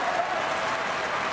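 Crowd applause at a 2003 Scott Tournament of Hearts curling match: a brief, steady wash of clapping from the arena crowd under a commentator's voice.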